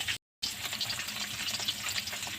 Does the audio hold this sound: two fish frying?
yes